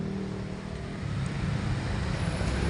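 Car on a road near Calamba, Laguna, heard as a steady, close broadband rumble of engine and tire noise that swells slightly as it continues.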